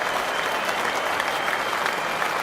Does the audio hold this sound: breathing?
no